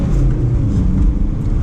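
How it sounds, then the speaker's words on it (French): BMW E92 Pack M coupe with 184 horsepower accelerating, a steady low engine drone heard from inside the cabin, continuous and fairly loud with no talk. "Une petite accel."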